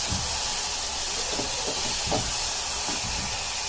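Masoor dal, the skinless red lentil, roasting in a hot pan gives a steady close hiss with scattered soft crackles and scraping, and no talk.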